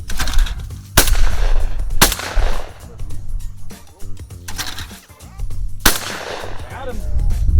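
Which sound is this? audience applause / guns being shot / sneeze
guns being shot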